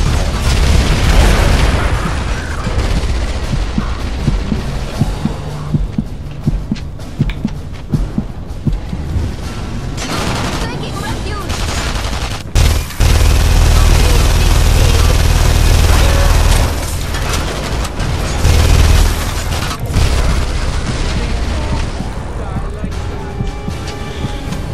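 Gunfire and grenade explosions in The Saboteur boom repeatedly, heavy and close, with rapid shot bursts and deep blasts scattered through a noisy firefight while someone talks over the action.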